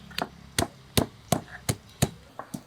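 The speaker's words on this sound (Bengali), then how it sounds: "আগে আদাটাই থেতলে নিই" Ginger being crushed for a chicken pulao made with country chicken, heard as about eight sharp, evenly spaced pounding thuds close by, with no talk.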